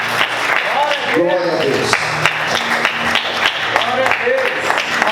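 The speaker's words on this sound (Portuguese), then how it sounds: "Vamos aplaudir o Senhor nessa noite." A church congregation claps for the Lord at an evening service, steady scattered clapping running beneath a preacher's amplified voice throughout.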